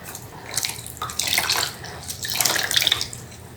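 Water is poured over a newborn baby to rinse it during a bath, heard as two swelling bursts of splashing and trickling, close by and moderately loud, with no talk.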